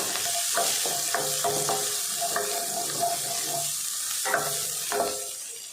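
Shallots sauté in hot oil in a pan, a close steady sizzle broken by clattering spoon scrapes and knocks against the pan.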